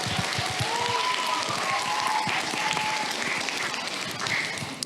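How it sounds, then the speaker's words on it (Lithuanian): An audience applauds for a costumed Poison Ivy, a continuous wash of clapping that holds steady for the whole stretch, with faint voices mixed in underneath. "tai dar kartą plojimai Poison Ivy Monikai."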